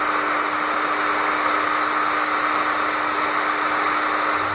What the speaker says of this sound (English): Now we'll come back and heat shrink these down.